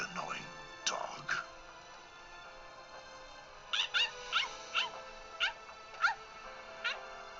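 A dog whimpers in the video game Bleach: Rebirth of Souls, giving a series of short, high, rising whines in quick succession over faint background music, with a character speaking briefly before.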